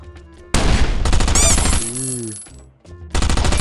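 Automatic gunfire rattles in the survival video game Last Island of Survival, loud and close, in long rapid bursts with a short break, then resumes, and a ringing whine sounds through the middle of it.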